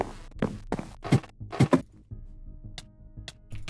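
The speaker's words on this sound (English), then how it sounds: "I heard him come up the ladder." Hollow wooden thunks of footsteps climbing a wooden ladder in Minecraft Bedwars, a quick run of close, loud steps followed by a few sparse, fainter taps after a short pause.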